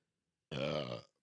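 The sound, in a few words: burp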